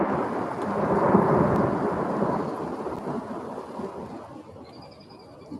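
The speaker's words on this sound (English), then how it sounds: "every thunderstorm we get here is severe" A deep roll of thunder during a severe thunderstorm swells to a peak and slowly rumbles away over several seconds, with rain noise beneath it.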